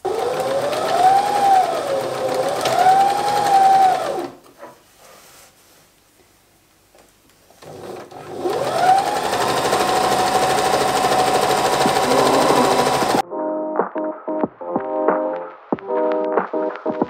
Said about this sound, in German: Und jetzt werde ich das Ganze nähen, also immer schön an der äußeren Kante.